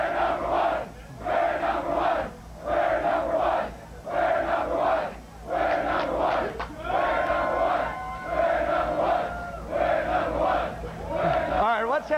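A large crowd partying in a parking lot after the 1999 national championship, chanting in loud rhythmic bursts roughly every second, with cheers and shouts between the chants.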